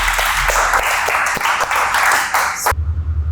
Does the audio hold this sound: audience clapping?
yes